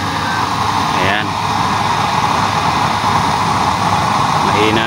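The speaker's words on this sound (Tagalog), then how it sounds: "Malakas itong 12 volts blower talaga." A small 12-volt electric blower feeding a 24-hole burner chamber roars steadily and loudly, a constant rushing drone with faint voices briefly audible beneath it.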